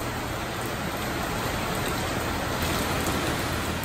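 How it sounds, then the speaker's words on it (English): Heavy rain falls on a South Texas ranch, a dense, steady hiss of drops drumming on surfaces close by, unbroken and fairly loud, with no talking. "It's raining. And it's raining good."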